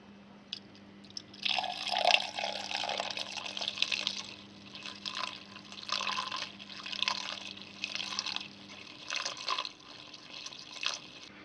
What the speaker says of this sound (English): Slowly refill the engine full of coolant through the filler cap here